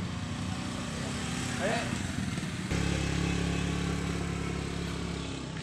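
Motorcycle engine running at an outdoor farm produce market, a steady mid-pitched drone that grows louder and fuller partway through, with market chatter and voices mixed in.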